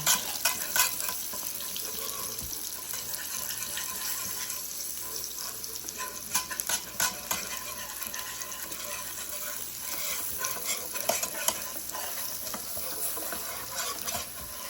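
Flour and onions cooking together in one pan for liver gravy, a steady low sizzle through the whole stretch with scattered scraping and tapping of a utensil, moderately quiet and without talk.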